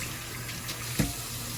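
A sink tap runs steadily while hands are wet under it, a continuous close hiss of water with a brief splash near the end.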